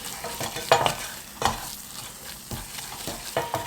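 Cumin and other spices frying in butter or oil in a pan while being stirred, with a steady close sizzle broken by a few scraping stirs of the spoon.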